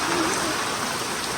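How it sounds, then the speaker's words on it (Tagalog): Heavy rain pours steadily at Bolinao, a dense close wash of drops over a surface with a brief faint voice early on. "Ang lakas ng ulan."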